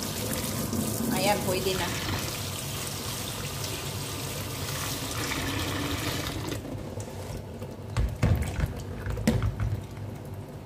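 Water runs steadily from a tap to flush hot water out of the pipe, a broad continuous rush with someone speaking over it and a few louder knocks near the end.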